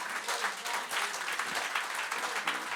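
A church congregation at a French-language service claps loudly together, a dense, steady burst of applause from many hands filling the room, with faint voices underneath.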